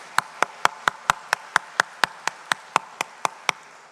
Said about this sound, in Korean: 우리 다시 한번 박수로 하나님께 영광 돌리겠습니다.